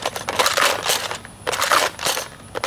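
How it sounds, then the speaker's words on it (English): Nerf Maverick blaster firing Striker darts, a quick series of sharp mechanical clacks and thumps in two bursts, close by with no talk. "So here I am with a Maverick, and it has the striker darts in there."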